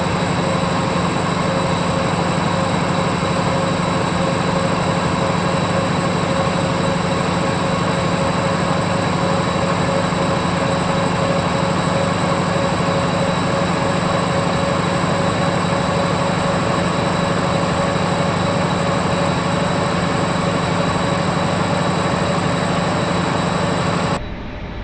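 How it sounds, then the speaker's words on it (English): An EMD-like diesel locomotive engine held at notch 5 in Train Simulator, a loud steady drone with constant tonal hum throughout, cutting off abruptly at the very end. "Notch 5 all the way. Sounds like an EMD."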